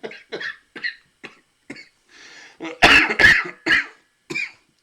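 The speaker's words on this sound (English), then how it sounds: "Oh, sorry, my cough." Several short, sharp coughs with a throat clear, close and loud, spaced irregularly and growing heavier toward the end, heard alone without talk.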